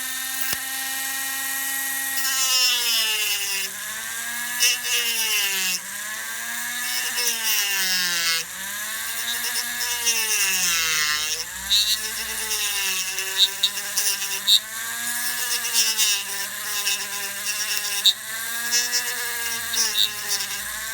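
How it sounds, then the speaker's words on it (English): Dremel cutoff wheel grinding into an HPI Blitz RC car gear, a shrill rotary whine that repeatedly sags and recovers in pitch as the wheel bites and eases off, continuous and close. "All I'm using is just a cutoff wheel for a Dremel."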